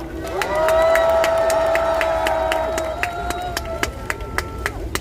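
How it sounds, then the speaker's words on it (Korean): A large outdoor crowd at a March 1st patriotic rally in Yeouido, Seoul, cheers loudly in sustained shouts, then scattered sharp claps break through as the roar fades. "여러분 큰 박수 부탁드립니다"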